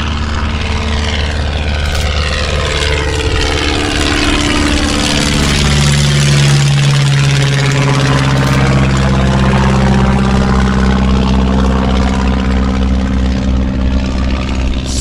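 A de Havilland Tiger Moth biplane's propeller engine roars close and loud as it takes off, the pitch sweeping and shifting as it climbs past, steady and continuous throughout with no voices.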